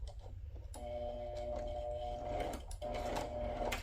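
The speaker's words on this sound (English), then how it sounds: "My sewing machine was acting like it wanted to start acting up" A sewing machine whirs in two short bursts, a steady mechanical hum with a pause between runs, close by and fairly quiet.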